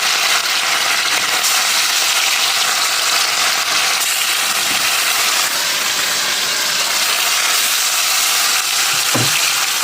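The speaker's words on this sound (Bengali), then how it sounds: "কড়াই বসিয়ে এই যে মাছটা ভেজে নিচ্ছি।" Fish frying in a kadai (wok) gives a loud, steady, dense sizzle that runs unbroken through the whole stretch, with no talking.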